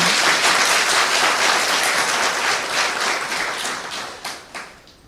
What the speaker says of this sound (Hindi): हाँ, जोर से ताली बजा सकते अपनी।